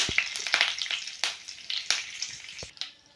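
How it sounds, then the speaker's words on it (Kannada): Cumin seeds and curry leaves crackle and sizzle in hot oil, with sharp pops and spits over a soft frying hiss, close and fairly quiet. "ಈಗ ಇಲ್ಲೇ ಕರಿಬೇನ ಸ್ವಲ್ಪ ಫ್ರೈ ಆದವು"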